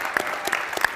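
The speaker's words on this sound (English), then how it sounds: "let's give a big round of applause for our finalists." Audience applause for finalists on a late-night talk show, with a few sharp, distinct claps standing out at a loose rhythm over a softer spread of clapping, fairly close and alone without talk.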